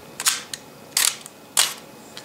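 A vintage 35mm film camera's shutter fires in a few sharp mechanical clicks, with smaller clicks of handling and winding in between, close and clear in a quiet room.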